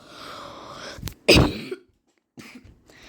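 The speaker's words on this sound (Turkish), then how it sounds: "Arkadaşlar öksürüyorum." A few sharp, close coughs in quick succession, followed by a brief silence and a softer throat-clearing cough.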